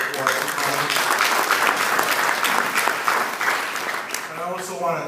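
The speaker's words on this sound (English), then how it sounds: "So just a little round of applause for Tony." A room of Sons of Italy members gives a round of applause for their national president, a dense burst of many hands clapping that tapers near the end as a voice returns.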